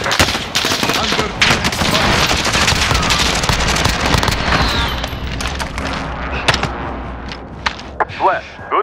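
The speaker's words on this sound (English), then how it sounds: "Allied precision airstrike incoming." Airstrike explosions and gunfire in Call of Duty Modern Warfare: dense, loud bursts of rapid gunshots and heavy booms pile up, then thin out into scattered shots near the end.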